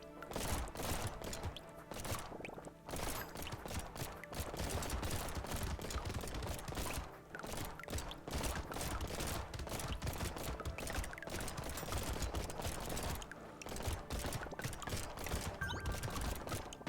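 Dense, rapid revolver fire crackles nonstop in the top-down shooter Brotato, a loud, steady barrage of overlapping shots lasting the whole stretch, with no talking.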